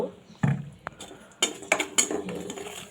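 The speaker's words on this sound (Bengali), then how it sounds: "একটা দারচিনি, একটা এলাচ আর একটা লং দিয়ে এটা সুন্দর করে ভাজবো" Semolina with cinnamon, cardamom and clove being fried in a pan, heard as sharp intermittent clinks and scrapes of a utensil against the pan over a quiet background, several distinct knocks spread across the moment.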